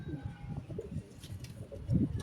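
Low, soft pigeon coos murmur close by, a few repeated throaty calls with a louder coo near the end.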